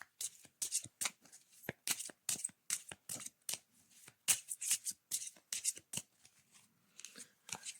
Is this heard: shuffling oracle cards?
yes